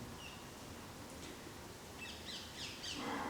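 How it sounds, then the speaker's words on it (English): Birds sing softly in the distance, with a few faint chirps and short trills rising over a quiet, hushed room tone. "perhaps the sound of the birds"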